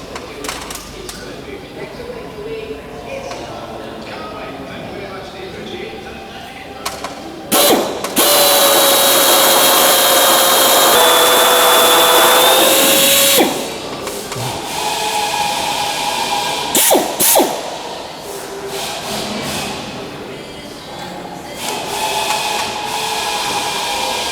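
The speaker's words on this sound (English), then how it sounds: "What's that attachment for the drill?" A power drill with an attachment whirs loudly and steadily for several seconds during restoration work on a Lancaster bomber trailing edge, with talking and intermittent mechanical clatter before and after.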